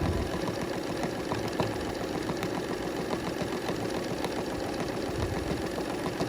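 Sewing machine running steadily as it stitches decorative embroidery across a scrap quilt sandwich, a continuous close mechanical whir with a fine rapid needle rhythm throughout.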